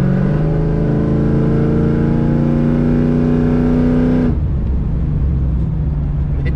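A 500ci twin-turbo big-block engine in a Colorado truck holds a loud, steady rev with a smooth rising drone, then drops abruptly to a deep, rough rumbling idle.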